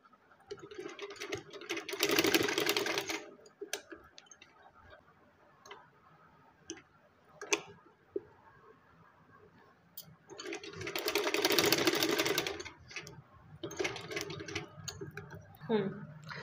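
A sewing machine stitches gota lace onto the chest and neckline of a frock in two loud rattling runs, one early and one later. Someone talks quietly between and over them, with small ticks and clicks in the gaps.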